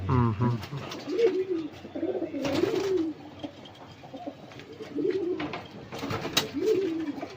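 Soft, low cooing of Lokhande pigeons repeating in short murmuring bursts, with people talking at moderate volume over them.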